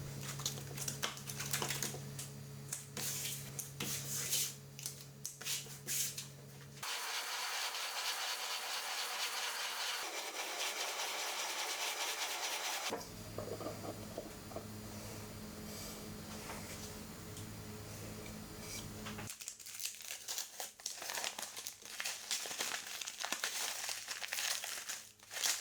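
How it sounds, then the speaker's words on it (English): Edges of a wooden box are rubbed back and forth on 100 grit sandpaper to remove bandsaw marks. The scratchy, rasping strokes come close and continuous, pausing and shifting in tone between passes. "used it to sand out the bandsaw marks on the box and the lid"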